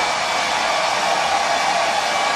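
A hair dryer blows steadily on a pair of trousers, giving a loud, even, unbroken airy whoosh throughout with no other sounds.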